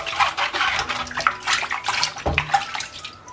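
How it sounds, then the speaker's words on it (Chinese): Running tap water splashes steadily over an apple and a pear as they are rinsed by hand, a close, continuous gushing with small splashy surges. "把表皮搓干净，再冲水"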